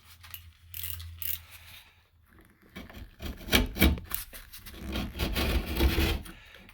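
Sharp knife scraping around the edge of a drywall hole to bevel it, with dry rasping strokes in short bursts and gaps, growing busier and louder in the second half, close up.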